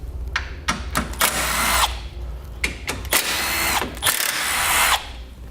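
A power tool whirs in repeated bursts as it backs out the bolts that hold the front fascia to the underside of a 2016 vehicle. Loud, close trigger pulls with short gaps between them, and no talking.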